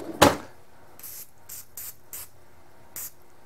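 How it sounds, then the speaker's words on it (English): Cooking spray squirted onto the threads of a vacuum needle assembly: one sharp close hiss, then five short, quieter bursts spaced about half a second apart. "You take this cooking spray and you spray those threads on there"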